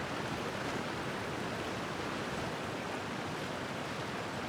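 A Genshin Impact waterfall pours in a steady, dense rush of white-noise water that never lets up, with no voices over it.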